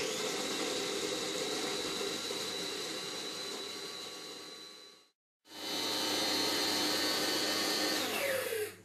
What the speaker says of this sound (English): Once you give it about 30 seconds, you'll see you've blended all your bread up.